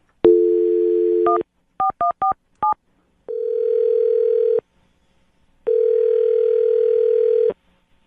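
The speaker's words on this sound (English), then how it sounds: "I'm going to dial this phone number right now" A telephone dial tone hums, then a quick run of keypad beeps plays in short clipped bursts, followed by two long steady tones, clean and alone with silent gaps between.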